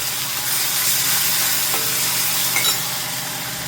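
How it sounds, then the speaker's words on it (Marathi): A paste of garlic, cumin, coriander and ginger, ground in a mortar, roasts in a pan with a steady broad sizzle and a couple of faint stirring scrapes, close and continuous with no voices. "याचं छान मी खलबत्त्यामध्ये बारीक करून घेतलेली आहे पेस्ट तर आता इथे भाजून घेते छान"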